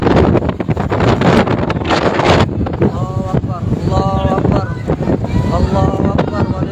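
Strong, dusty wind sweeps through Mecca after the Maghrib prayer, a loud, continuous roar buffeting the microphone, with voices faintly audible beneath it.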